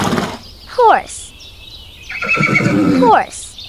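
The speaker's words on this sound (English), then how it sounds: "Horse," Horse neighs twice, each a loud descending whinny, separated by a short gap with some chattering noise and a spoken voice in between.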